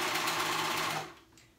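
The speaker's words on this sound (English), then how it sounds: "If you do use a sewing machine and you do a stretch stitch" Sewing machine running a stretch stitch through dress fabric, a close, steady mechanical whir that keeps going for about a second and then stops, leaving faint room sound.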